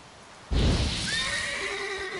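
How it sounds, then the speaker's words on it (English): Roach, Geralt's horse in The Witcher 3: Wild Hunt, lets out a single loud, clear whinny that rises and trails off in a long wavering neigh over a soft background hush, with no talking. "Oh no, I scared my horse."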